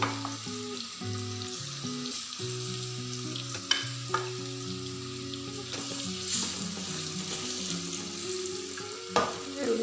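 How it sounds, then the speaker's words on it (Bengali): Chicken fries in oil with a constant sizzle, broken by occasional stirring clinks and scrapes of a utensil against the pan, beneath a low hum. "ভেজে নিলাম চিকেনটা লাল করে"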